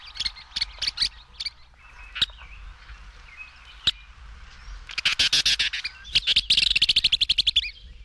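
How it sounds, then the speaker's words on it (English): Western, or Arkansas, Kingbird calls come as sharp, scattered chips and twitters, then build into quick, bright chattering runs near the end, moderately close against a quiet background. "Western or Arkansas Kingbird"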